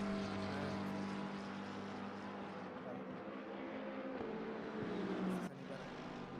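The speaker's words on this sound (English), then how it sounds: "I definitely can't hear a bit past the engine noises." Race car engine in a sim racing endurance event at Kyalami, a steady loud droning motor roar held throughout with shifting pitch, fairly constant and dense.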